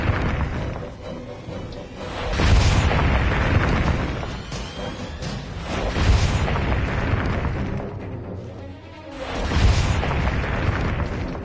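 Repeated deep booms from explosions destroying rock in the video game Owlboy, three heavy rumbling bursts spaced a few seconds apart, each swelling and slowly decaying amid continuous game noise, with no voices.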